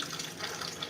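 Tap water runs into a kitchen sink while a pan of cooking water is drained, a steady, fairly soft splashing rush that lasts the whole brief moment with no talk.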